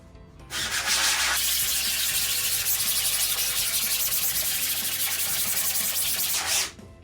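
A scrub brush is worked hard across a screen-printing screen during reclaiming, making a loud, continuous, close-up bristly scrubbing that holds steady for several seconds before stopping abruptly.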